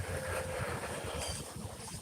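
Continuous wind buffeting the microphone, a steady rushing roar with low rumble, close and loud, with no one speaking.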